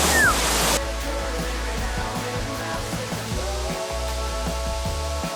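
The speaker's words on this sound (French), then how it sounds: "On arrive sur le spot de la cascade." Steady broadband rush of a waterfall at an outdoor Provence spot, a continuous roar that stays constant throughout, close and fairly loud with no clear voices.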